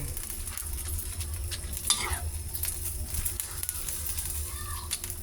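Bihon noodles for pancit are stirred in a pan with soft scraping and tossing sounds over a low sizzle, steady and fairly quiet throughout.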